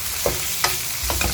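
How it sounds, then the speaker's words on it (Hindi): Onions hitting a little oil left after frying okra, a bright close sizzle broken by a few sharp spatula scrapes and stirs. "भिंडी फ्राई हो चुकी है, मैंने उस थोड़े से ऑयल में प्याज डाल दी है।"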